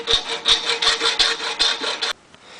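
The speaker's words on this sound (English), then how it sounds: "So we're going to take the good old hacksaw, get it lined up here at about a 45." A hacksaw cutting a snowmobile track slide held in a vise, about nine close, rhythmic rasping strokes back and forth that stop abruptly.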